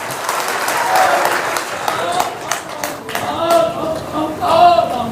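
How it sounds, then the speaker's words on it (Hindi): An audience at a religious gathering in India claps in a burst of applause, with voices talking and calling out over the clapping. "सब लोग पहले ताली बजा दीजिए इनके लिए।"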